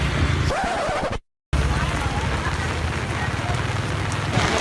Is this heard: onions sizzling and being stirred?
no